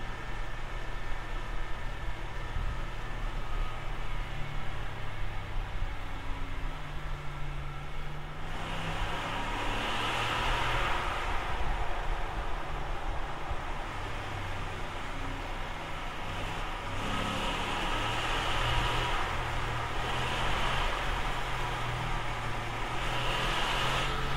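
The engine of a 2012 Ford F150 Raptor runs in manual mode, a low, steady rumble with rising and falling revs and brief louder surges, heard close with continuous road or wind noise.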